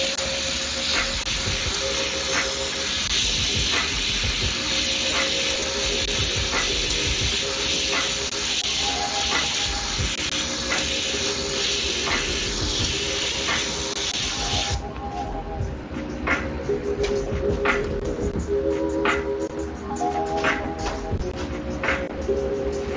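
An airbrush sprays paint for live graffiti art while its air compressor runs, giving a steady, loud, continuous hiss that eases slightly partway through, with faint tonal hum underneath and no speech.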